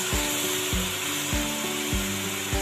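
Keema with chopped green chilies, ground coriander and spices sizzles and fries in a pan, with a steady broadband crackle and several repeated clanks of a spoon scraping and stirring against the metal pan.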